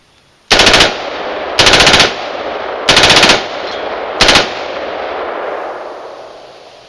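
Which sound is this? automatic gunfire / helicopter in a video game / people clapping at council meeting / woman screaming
automatic gunfire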